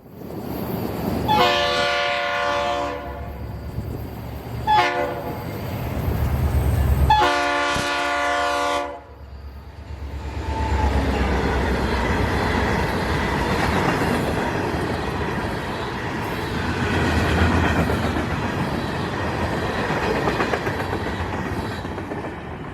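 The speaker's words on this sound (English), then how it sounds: "FEC Local 905 was done switching customers in St. Augustine and was heading back north, with FEC 936, one of the very few breast cancer awareness locomotives, leading the charge north" An FEC freight train led by locomotive 936 sounds three loud horn blasts up close and then rumbles past with heavy, continuous clatter of wheels and cars.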